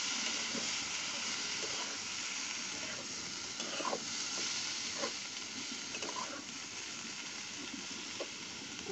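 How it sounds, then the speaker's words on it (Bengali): Red amaranth greens tossed with browned garlic in a hot pan give off a steady, close sizzle, with soft stirring scrapes scattered throughout and no voices. "এখন আমার রসুনটা লাল হয়ে গেছে, এখন আমি শাকটা ডাইলা দিলাম"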